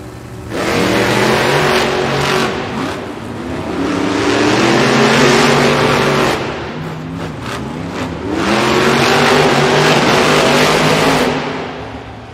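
Monster Jam trucks race side by side in an indoor arena, their big engines roaring loud and sustained in two long revving surges separated by a brief dip, no talk over it.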